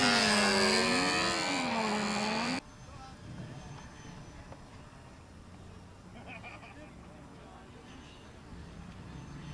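A jet aircraft flies past with a loud, wavering turbine whine that cuts off after about two and a half seconds, leaving quieter background noise with faint voices.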